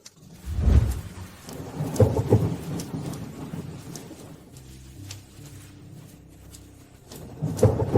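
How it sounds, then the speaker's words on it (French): Deep thunder rumbles roll in several times over a steady patter of rain, loud booms near the start and again at the end. "Il pleut enfin."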